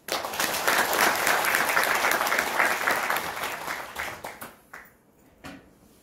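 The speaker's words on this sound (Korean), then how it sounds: "함께 박수 한번 치시죠" Crowd at an LG Chem labor union convention clapping together, dense loud applause that holds for several seconds, then thins into a few last claps.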